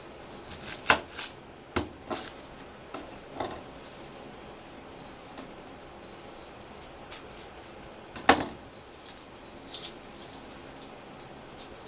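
Knife chopping garlic, ginger and a small onion on a board for kimchi, heard as a few sharp, scattered close cuts with long pauses between them, no talking.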